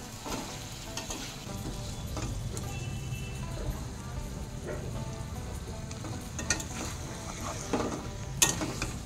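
Chicken cooks in a pan with a continuous sizzle and frying crackle, close up, while a spatula stirs and scrapes with occasional clinks against the pan.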